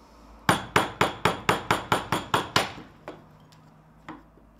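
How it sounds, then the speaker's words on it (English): A mallet drives a chisel into wood, chopping out the middle of a mortise for a rocking garden bench: nine loud, evenly spaced strikes close by, then a couple of softer, scattered knocks. "now we're ready to start chiseling out in the middle."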